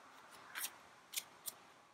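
A round oracle card deck is shuffled by hand, giving three soft, quick papery riffles spaced apart in a quiet room, close and faint, with no talking.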